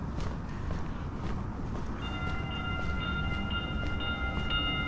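A Metro train rolls past on the street, a steady loud rumble with rhythmic clacks and a high metallic squeal of wheels joining partway through, heard from nearby with no talking.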